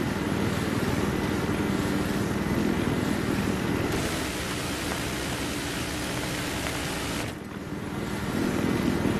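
Battlefield 3 helicopter in flight during the Operation Riverside map, a steady broadband rotor and engine roar that stays loud throughout, dipping briefly near the end before swelling again.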